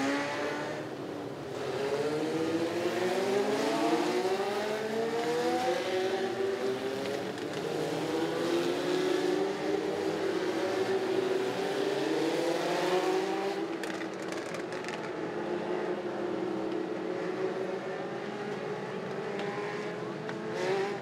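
Legends race cars circling a speedway under caution during a national qualifier, their engines blending into a continuous droning roar with rising and falling pitch sweeps as they pass, fairly distant and steady throughout.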